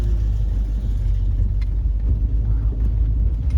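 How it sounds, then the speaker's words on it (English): Low, steady engine rumble from a car cruising along smoothly, a continuous near drone filling the interior without voices. "The sound of that engine."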